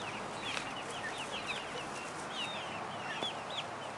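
Several chickens cluck and squawk in a noisy, flighty flock with chicks and turkeys, close by, over a constant outdoor background rumble.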